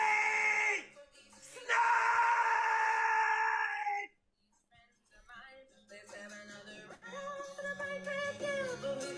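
A man screams on a TikTok live stream, two long, loud, strained howls in a row, followed by quieter voices and some noise.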